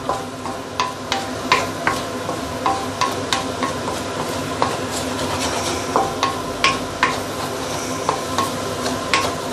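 Eggs and prawns frying in a pan with dark soy sauce, a steady close sizzle under rhythmic scrapes and taps of a utensil stirring against the pan, no talking.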